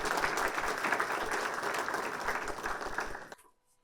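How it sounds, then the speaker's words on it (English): Audience applause at a United Way Everyday Heroes event, a steady wash of clapping from a crowd for over three seconds before it stops abruptly into silence. "So how about another round of applause for everyone?"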